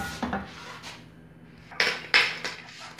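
Homemade popcorn popping inside a pot that is shaken on the stove, with scattered pops and metallic clanks from the pot. The sounds come in a few sharp, close bursts between quieter stretches.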